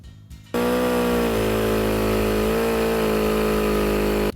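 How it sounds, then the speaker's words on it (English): A seal cutter slices through the bonded seal of a car windshield, a loud, steady power-tool drone with a strong harmonic whine that starts abruptly and runs continuously without pause. "Let's get started with the seal cutter."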